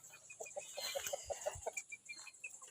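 Young labuyo junglefowl of the talisayin type clucking close by, a quick run of soft rhythmic clucks and chirps, faint and short.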